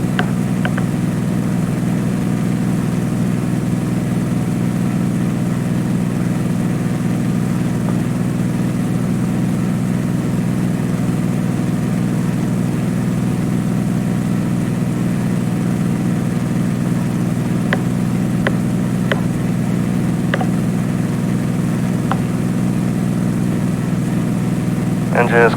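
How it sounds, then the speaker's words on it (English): Steady, loud small-aircraft engine drone in flight over Alaska, a constant low rumble and propeller hum filling the whole stretch, with a few faint clicks near the end. "I don't know how much time you spent in a small aircraft like this, but they're extremely loud."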